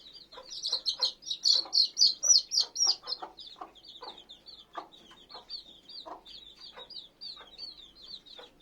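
A mother hen with two chicks, bursts of soft repeated clucking close by alongside thin high peeping from the chicks, busiest early then continuing in a steady rhythm.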